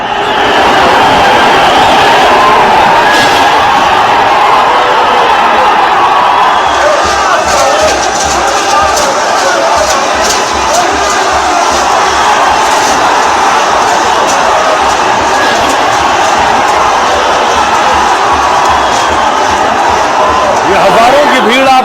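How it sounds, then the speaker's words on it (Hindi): A large crowd of young protesters in Nepal rushes toward the parliament, a loud continuous roar of shouting and chatter with scattered whoops, overlaid by a voice speaking throughout. "भीड़ आप देख रहे हैं जो संसद की तरफ भाग रही थी, संसद की तरफ दौड़े और संसद को भी नुकसान पहुंचाया।"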